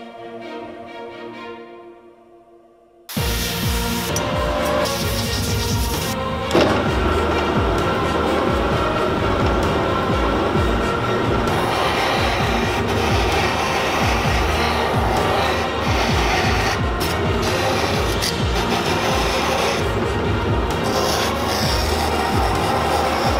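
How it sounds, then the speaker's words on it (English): A solid magnet piece having its edges ground, a loud continuous abrasive rasping and rubbing that runs steadily after a short quieter start, close and without speech. "We'd now have to grind round the edges and then tumble it in the tumbler"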